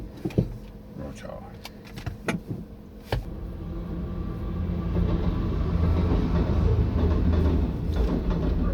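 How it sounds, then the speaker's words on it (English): A steel freight train rolls past a level crossing: a few sharp clicks and knocks come first, then a deep rumble builds and holds steady and loud to the end. "Well, looks like it's a steel train."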